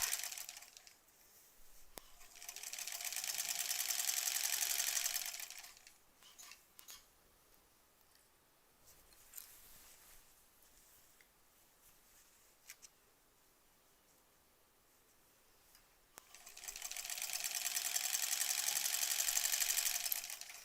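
A sewing machine stitching rows of a granny squares quilt, two bursts of steady mechanical whirring at the start and end, close, with quiet handling and clicks of fabric and clips between.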